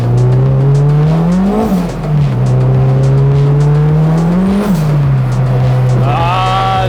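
A turbocharged Honda Civic revs hard under boost, its engine note rising, dipping briefly around two seconds and again near five, then climbing once more. The sound is loud and close throughout, with no talk over it.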